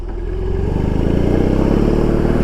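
A 2021 BMW R18 motorcycle with stock exhaust and a flashed ECU revs up close by, a deep throbbing engine note that rises and pulses with the throttle, loud and alone.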